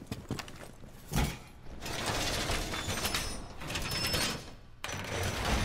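A wall reinforcement is deployed in a video game, heard as a close mechanical ratcheting and sliding of gears and metal parts that runs for several seconds with short pauses.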